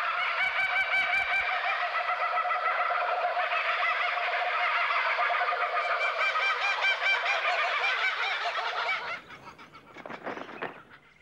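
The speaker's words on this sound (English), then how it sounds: "This chorus of raucous laughter from one group of kookaburras proclaims their territory to neighbouring" A group of laughing kookaburras calls in chorus in the Australian wild, a loud, sustained, raucous cackling that fills the air for several seconds before fading into scattered, quieter calls.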